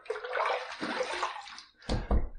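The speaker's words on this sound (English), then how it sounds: "Just a splash." Water is splashed onto a face before a shave, with a wet sloshing rush followed by a short pause and then a couple of quick, close splashes.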